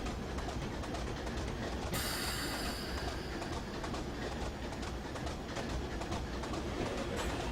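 Class 25 diesel locomotive running in Train Simulator 2015 on the Western Lines of Scotland, a steady loud rumbling drone with rhythmic clicking of wheels over rail joints throughout.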